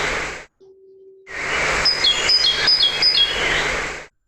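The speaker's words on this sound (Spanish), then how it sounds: "este sonido tan bonito es de este pajarito que se llama carbonero común" A great tit sings a string of bright, repeated two-note chirps, clear and fairly close, after a short pause and a brief tone, over a soft background hiss.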